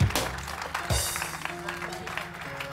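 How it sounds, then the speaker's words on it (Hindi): Studio audience claps during a Pakistani morning TV show, a moderate, diffuse patter of hands beneath background music and hum. "आप लोगों की तालियां"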